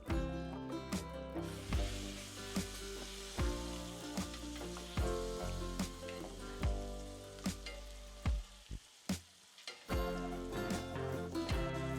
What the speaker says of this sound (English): Really let that butter kind of sizzle.